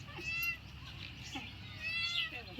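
A cat meows softly a few times at close range, thin and faint, while someone talks affectionately over a steady background hum.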